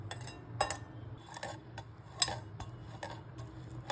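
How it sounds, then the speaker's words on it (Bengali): Potato being grated on a metal grater: a series of short rasping, clinking strokes at an uneven pace, close by, with quiet pauses between them. "প্রথমে আলুটাকে আমি গ্রেট করে নেব।"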